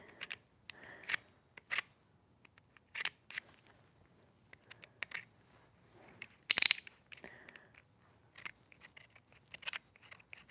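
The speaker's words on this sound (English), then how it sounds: "it's good the razor works to take like just that excess off" Razor blade scraping excess paint off a painted wooden spindle, a series of short, dry, crisp scratches in scattered bursts with quiet gaps between them, close up and fairly soft, with one louder sharp scrape near the middle.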